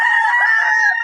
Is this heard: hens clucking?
yes